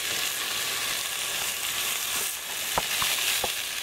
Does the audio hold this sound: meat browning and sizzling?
yes